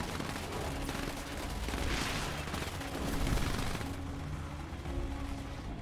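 Battle gunfire in the PC real-time strategy game Command & Conquer 3: Tiberium Wars, a dense, continuous crackle of rapid shots and bursts layered over game sound, fairly even in loudness throughout.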